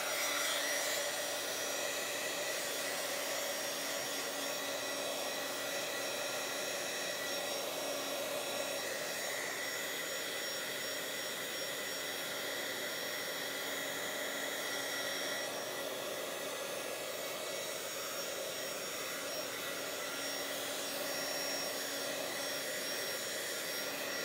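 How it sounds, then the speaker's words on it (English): A heat tool blows steadily while drying a mixed media journal page, a continuous breathy whir with a faint high whine, unbroken and fairly quiet throughout. "I'm gonna have to dry that before I can glue this"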